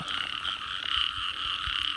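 Frogs croak around four in the morning in a rural Thai setting, a dense continuous chorus of rapid trilling calls from many animals at moderate distance.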